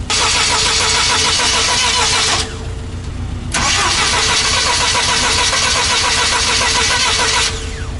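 A GAZelle van's UMZ engine cranks in the cold, the starter grinding loudly in two long bursts separated by a short pause, with rough rhythmic turning but no clean catch.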